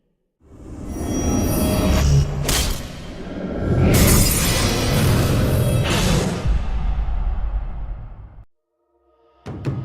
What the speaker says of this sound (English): use Dragon's Rage to kick it into the enemy nexus, immediately destroying it and winning the game